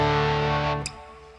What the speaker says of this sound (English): For example, distortion.